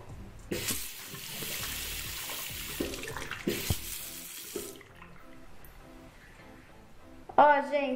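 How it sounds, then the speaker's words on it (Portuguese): Running tap water poured over a Eudora waterproof gel eye pencil swatch, steady faucet flow and splashing under a quiet background, with a brief louder burst near the end. "Vou fazer o teste da água aqui com vocês, tá?"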